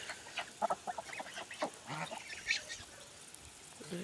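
Farmyard geese, including a gander and his hens, give a scattered run of honks and cackles at moderate distance, busiest in the first half and then tapering to a few calls, with no talk.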